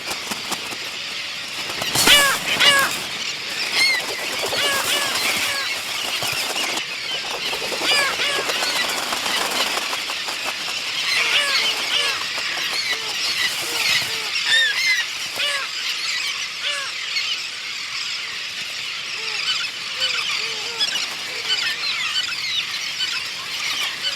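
A busy seabird colony on Isla Raza: many gulls and terns call and squeal over each other continuously, some loud and close, others fainter in the background.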